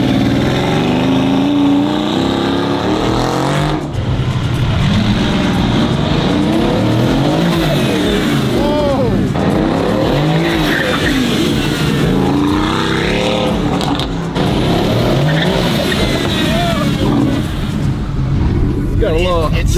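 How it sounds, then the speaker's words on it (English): A roughly 1200-horsepower Mercedes-AMG build revs hard with rising turbo spool and bursts of squealing, skidding tires, loud and continuous up close while people talk over the engine. "you can hear all the turbo spool"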